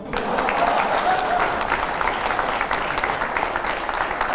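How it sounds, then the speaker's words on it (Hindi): A studio audience at a Hindi political talk show breaks into loud, sustained applause, dense clapping that holds steady for several seconds with no talking over it. "अगला जोरदार तालियों के साथ जरा प्ले ऑन करिए।"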